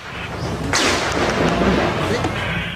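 Gunfire and heavy thudding blasts ring out during a military assault on a Maute Group stronghold in Butig, Lanao del Sur, with a sharp crack followed by rolling booms under a voice.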